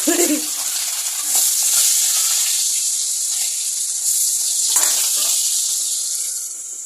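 Boal fish frying in a pan, stirred with a spatula: steady loud sizzle throughout with occasional scraping strokes, no talking.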